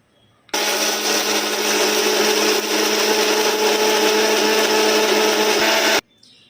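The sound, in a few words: electric mixer grinder grinding mustard seeds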